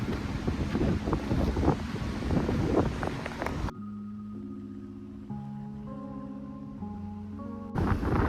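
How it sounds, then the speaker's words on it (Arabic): Strong wind buffets a phone microphone on a solo hike in Egypt, producing loud rumbling gusts that cut out abruptly for a few seconds, leaving steady tonal hums, before the blustery noise returns. "بس الدنيا هوا فشخ"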